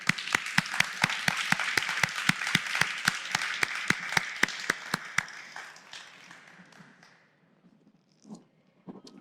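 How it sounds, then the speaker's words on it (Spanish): A church congregation claps in a steady, evenly spaced rhythm of loud, sharp beats that stops after about five seconds, leaving fading crowd murmur and a few stray sounds. "nuevamente un aplauso al Señor"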